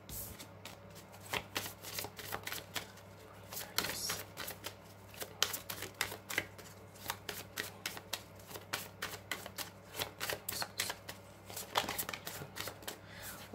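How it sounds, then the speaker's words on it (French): Oracle cards shuffled and drawn one after another for a nine-card reading, a steady run of crisp riffling and snapping card clicks close up, with a low steady hum underneath and no talking. "On va faire un tirage en 9 cartes, ce qui ressort pour vous."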